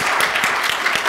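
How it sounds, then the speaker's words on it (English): Audience clapping for a speaker at an entrepreneur summit, a dense, steady wash of applause from a crowd filling the whole moment without pause. "Let's give Charlie a round of applause."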